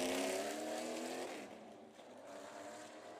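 A Pro Late Model race car getting up to speed during qualifying at Cordele Motor Speedway, its engine tone droning and then fading quieter into the distance, faint overall.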